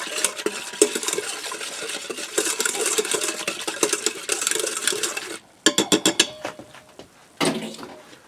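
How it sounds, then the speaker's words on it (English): A whisk blends dry Italian dressing seasoning mix with liquid inside a pressure cooker pot, a brisk continuous scraping and rattling against metal that breaks into several sharp separate clanks near the end, close and loud with no talking. "I'm going to go with a whisk and just blend everything all together."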